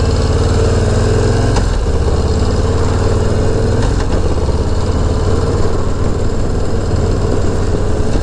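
A Harley-Davidson Low Rider ST on the road, its engine rumbling loud and steady throughout with wind roar, with a couple of brief shifts in engine note.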